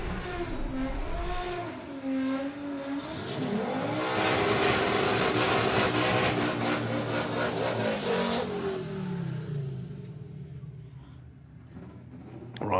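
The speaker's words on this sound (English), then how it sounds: "so it is going to be George Baker rolling on to the 3rd round with the Civic" A Honda Civic launches down a drag strip during a race-meet round, its engine revving hard and climbing in pitch as it accelerates away, loud at first and then fading into the distance.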